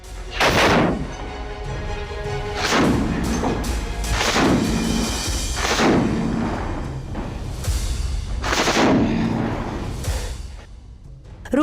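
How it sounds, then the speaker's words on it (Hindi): Repeated loud gunshots and heavy artillery-like blasts echo through a combat zone during the Russian assault on Ukraine, bursts recurring every second or two over a constant rumbling background, with no talk. "लगातार आ रही गोलियों की आवाज"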